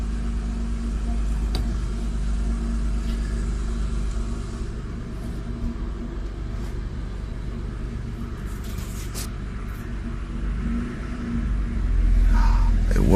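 A Nissan 300ZX runs and drives after a fuel pump replacement. Its engine makes a steady low rumble throughout, swelling louder near the end.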